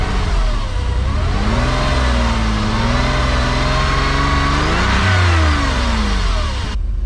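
A Porsche Boxster engine runs loudly up close after a misfire, its pitch rising and falling as it revs, then settles toward a steady idle.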